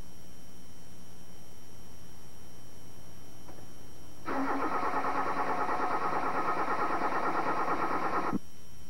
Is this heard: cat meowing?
no